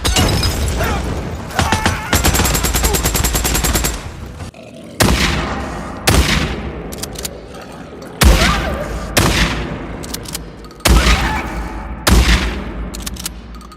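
Gunfire from the video game Days Gone: repeated loud bursts of shots and booming blasts, including a rapid automatic volley early on, then a series of heavy single reports with ringing tails, up close and with no talking.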